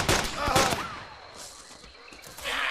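Gunfire in the DayZ video game, aimed at zombies on the Lingor map: a quick cluster of sharp shots early on, then quieter game ambience with voices in the background.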